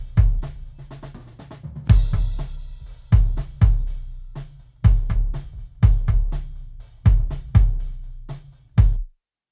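A kick drum blended with a sub kick mic thumps through a loose pattern of roughly a dozen hits, each punchy and close with a deep low-end bloom and a short decay. Quieter hits sit between the louder accents, with no voices.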